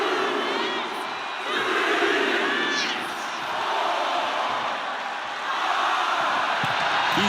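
A WWE wrestling arena crowd cheers and roars in a broad, sustained wash of noise that swells and dips in waves, with scattered whistles and shouts.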